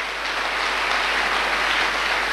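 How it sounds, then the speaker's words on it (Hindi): Steady, dense applause from an audience at a motivational talk, sustained evenly throughout without pause, with no speech over it. "बजा लीजिए ताली"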